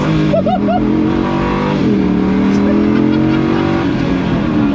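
An LS V8-swapped Bowler Wildcat accelerating hard with all four wheels spinning: a loud, sustained engine roar climbing in pitch, close and continuous, with a brief chirp of tyre squeal near the start.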